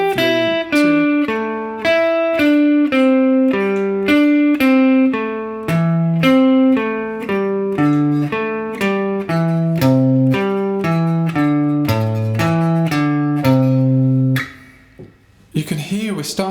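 A descending pentatonic sequence built from repeating four-note groups is played on a guitar as a clear, steady run of single notes, up close with no talk, stepping lower until it stops near the end.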